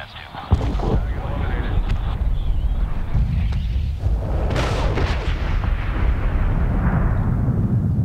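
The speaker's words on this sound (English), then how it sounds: "Missile off the rail. Fire a cannon." Weapons fire in Medal of Honor (2010) in booming blasts: a sharp burst as a missile launches, then rolling cannon fire and explosions rumbling continuously, loud and heavy.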